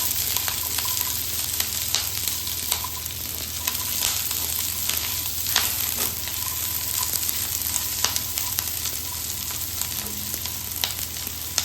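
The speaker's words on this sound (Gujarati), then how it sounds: "10 થી 15 કળી જેવું લસણને પણ આપણે સાતરી લેવાનું છે." Garlic cloves, ten to fifteen of them, sauté in a pan for a chutney, giving a steady close sizzle and fry hiss throughout with occasional light stirring clicks, no voices.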